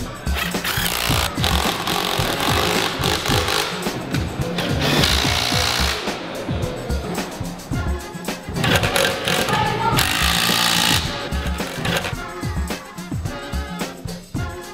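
Loud power tools grind and rattle continuously, with harsh buzzing and banging bursts of machinery close by.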